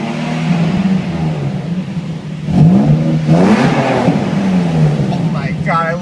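A Nissan 350Z engine is revved past 4,000 rpm, its tone climbing and swelling in close, loud pulls while people talk over it.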